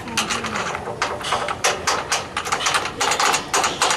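A wrench ratchets repeatedly while a nut is tightened onto the C frame of a Hykon solar water heater tank, giving close, rapid metallic clicking strokes in uneven bursts with no speech.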